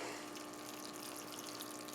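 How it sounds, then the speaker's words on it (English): Water running steadily from above onto petunia seeds in a hanging basket, a faint continuous hiss and splash lasting a couple of seconds with no voices. "I water the heck out of it now"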